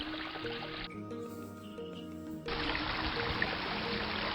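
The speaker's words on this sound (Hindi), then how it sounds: "बहते पानी के सुमधुर संगीत को" Water trickles and flows in a continuous hissing stream that drops away briefly and returns, heard beneath soft sustained musical tones.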